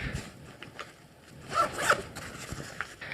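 Zipper running along a pocket of a First Tactical messenger bag, a few quick near rasps building to a louder pull in the middle, with short scratchy bursts before and after in a quiet room.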